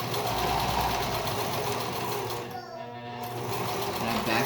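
A sewing machine chain stitching fabric masks runs steadily and close, with a brief dip in its whir midway before it picks back up; a voice speaks over the motor.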